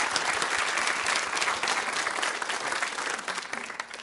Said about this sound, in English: round of applause for Charles